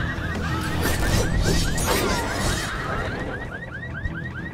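Repeating warbling car alarm from a car in the video game The Secret World, its rising chirps cycling steadily through a busy, dense mix of game noise with crashes and thuds.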